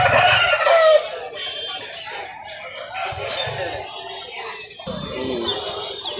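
Country chickens at a Sunday poultry market in Nellore cluck and crow nearby, a loud rooster call opening, then scattered clucks amid market bustle with voices talking.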